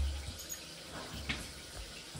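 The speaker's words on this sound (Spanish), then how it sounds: "Es el grifo de lavabo. Está abierto." Water runs steadily from an open bathroom sink faucet, a continuous close hiss and splash with no talk over it.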